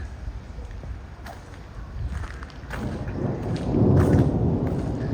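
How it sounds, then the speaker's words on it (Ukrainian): Thunder rumbles during a heavy downpour in Uzhhorod, with rain hissing throughout; a deep, rolling roll builds and grows loudest toward the end, under steady rain and gusts. "Ще чути грім."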